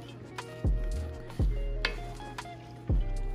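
Vegetables for turkey chili sizzle and simmer in a pot, with three distinct clanks of a spoon against the pot at regular intervals.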